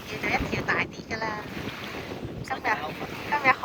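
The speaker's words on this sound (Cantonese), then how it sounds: "呢個實在太大風啦" Strong wind at an Australian beach buffets the microphone in a loud, constant low roar with gusty surges, and faint voices sit underneath.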